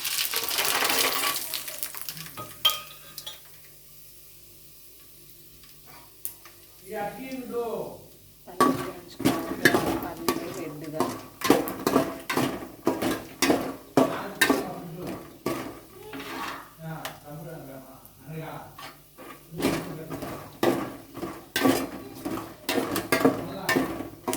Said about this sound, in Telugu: పల్లీలు వేయించుకోవాలి.